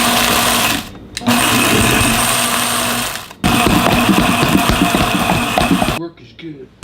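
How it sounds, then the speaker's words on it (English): A Vitamix dry-container blender grinds half a cup of Parmesan with a loud, close motor whir that runs in three bursts with brief pauses, then cuts off near the end. "And then I get to use my cool Vitamix, the dry one."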